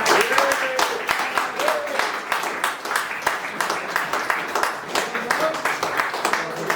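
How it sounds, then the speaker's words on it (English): A crowd at an end-of-season club presentation claps steadily for a special commitment award, a continuous patter of many hands with a voice speaking over the applause. "So let's have a big cheer"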